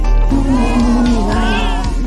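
Loud, close cat meows, drawn-out wailing cries with a slight caterwaul edge, heard over a constant low background rumble.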